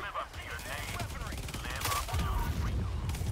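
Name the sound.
gunfire from the video game Helldivers 2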